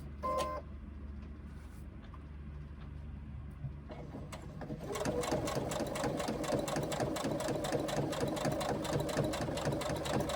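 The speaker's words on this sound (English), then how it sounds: "We sew down that line of stitching to where we started before." A sewing machine stitches a fabric pouch, its rapid needle chatter starting softly and then running steady and loud from about five seconds onward, close to the microphone with no talking.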